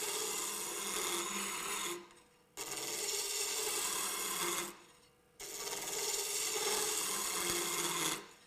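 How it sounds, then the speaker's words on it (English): A wood turning tool scrapes a spinning spindle on a lathe, a steady raspy grinding in three long passes separated by brief pauses. "Everything I'm showing you here is with a scraping action."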